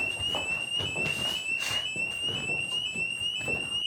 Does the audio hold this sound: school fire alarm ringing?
yes